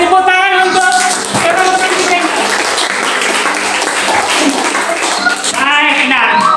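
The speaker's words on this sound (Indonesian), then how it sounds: "Tepuk tangan untuk" A classroom of students applauds together after quiz results are announced, a dense burst of clapping that runs steadily for several seconds, with voices mixed in.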